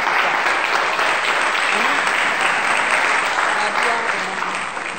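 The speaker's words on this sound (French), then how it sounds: "Est-ce que tu peux acclamer la parole de Dieu très fort?" A church congregation claps loudly and steadily, dense applause filling the whole stretch with a few voices mixed in under it.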